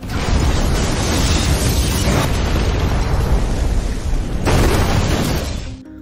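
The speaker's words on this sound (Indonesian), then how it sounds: "mobil itu pun meledak. Ledakan itu mengguncang kota." A huge roaring car explosion fills the air, a dense sustained rumble with fresh blasts bursting in partway through before fading at the end.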